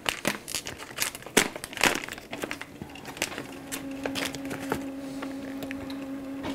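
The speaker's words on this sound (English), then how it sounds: "So whilst it's doing that, I'm going to open this package here." A plastic package holding a Canon print head for a Canon Pixma MP640 printer crinkles and crackles in close, irregular bursts as it is opened, then quiets as a steady mechanical hum from the printer takes over.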